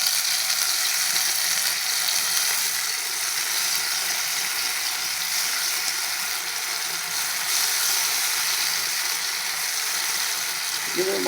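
Sliced potatoes fry on a hot tawa with a steady, close, dense sizzle that holds evenly from start to finish, with no voices.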